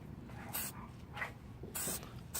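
Gasket spray hisses onto GY6 scooter engine parts in three short bursts, the last two longer and louder, with a low background rumble between them.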